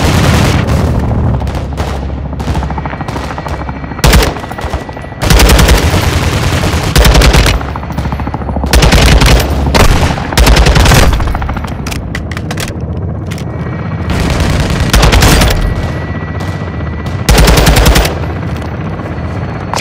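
Sustained automatic gunfire and booming explosions in the Call of Duty Modern Warfare 2 campaign, loud and dense throughout with rapid bursts and heavy impacts overlapping one another, and no talking.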